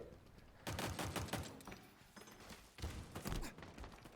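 Pistol shots crack out in a fast competitive video game match, a rapid burst of repeated pops with thuds, then a second cluster after a short gap, up close and loud.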